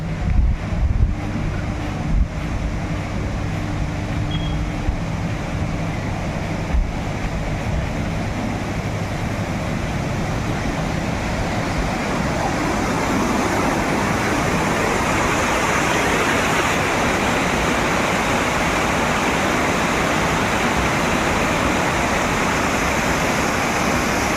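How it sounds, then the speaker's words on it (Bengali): Steady broadband roar of rushing water from Banjhakri Falls near Gangtok, continuous and loud throughout, with some wind buffeting early on. "জলের একটা আওয়াজ শোনা যাচ্ছে"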